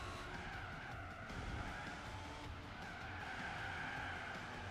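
A car oversteering and skidding in Gran Turismo 4, with a continuous loud tire squeal over steady engine roar, sustained for several seconds without talk.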